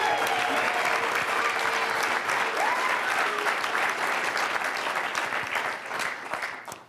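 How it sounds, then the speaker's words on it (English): An audience at the Anderson College of Business 2019 Innovation Challenge Finals applauds with a dense, steady patter of clapping that holds for several seconds before tapering off at the end. "So mentors and Dennis and Marty, let's give you a round of applause and a thank you."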